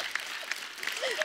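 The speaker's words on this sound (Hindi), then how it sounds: "पापा क्या ताली बजा रहे" A small group claps briefly at home during a family chat, a few soft, uneven claps heard under ongoing talking and laughter.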